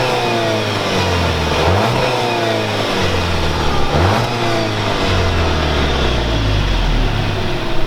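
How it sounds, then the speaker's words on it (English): A 2020 Volkswagen Jetta GLI's exhaust in normal mode, heard from behind the car as the engine is blipped through a few rising and falling revs over a steady idle, loud and close with no talking. "Here is normal mode for the exhaust."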